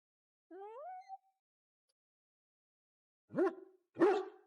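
A dog barks twice in a castle setting in the Dragon Age: Origins video game, after a short whine; the two sharp, close barks stand alone with silence between them.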